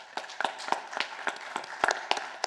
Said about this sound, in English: So can we please give them a quick round of applause?